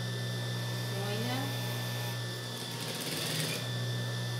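A sewing machine stitching around the edge of a child's romper, a close, steady motor hum with rapid needle chatter running continuously, and someone speaking softly over it.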